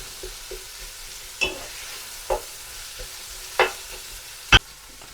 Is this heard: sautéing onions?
yes